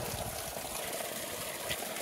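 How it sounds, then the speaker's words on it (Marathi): Strong, steady rush of spring water gushing from a village source in a hilly area, a continuous broadband splash filling the whole stretch, loud and close with no talk. "किती जोरात पाणी आहे."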